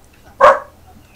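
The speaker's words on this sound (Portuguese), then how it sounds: "Cadê o seu dono, cachorro?" A single dog bark in a video game, a loud, short yelp standing alone against a quiet background.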